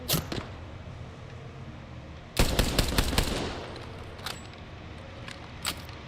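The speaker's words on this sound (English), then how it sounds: "Being shot at." Gunfire in a video game, with a few sharp shots at the start, then a loud dense burst of rapid fire that trails off into scattered later shots.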